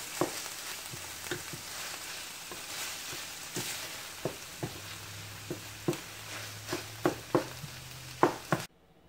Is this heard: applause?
no